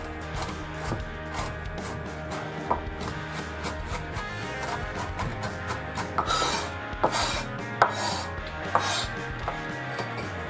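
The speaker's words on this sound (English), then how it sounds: "We're going to chop the walnuts." A knife chopping walnuts on a board, producing rapid, repeated scraping and crunching strokes at close range, with sharper, louder chops clustering in the second half.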